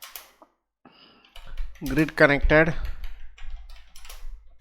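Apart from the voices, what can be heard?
typing a prompt on a computer keyboard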